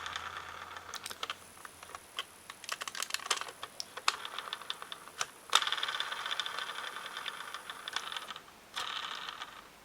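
A GI Joe Rise of Cobra Armored Panther toy rolls on wobbly, misaligned wheels: a steady motor whir with rapid, uneven clicking rattles, close by, stopping briefly and starting again.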